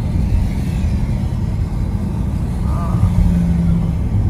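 A car merging onto the Paris ring road, its steady low engine and road rumble close and loud throughout, with a brief faint tonal whine near the end and no clear talk.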